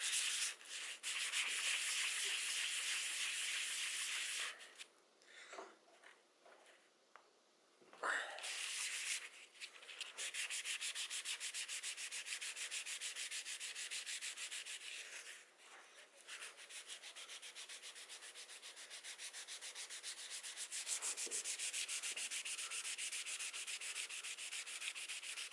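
Hand sanding with 320 grit sandpaper on a black guitar finish during a repair, a steady close scratchy rubbing in long continuous strokes with a few brief pauses, no talking.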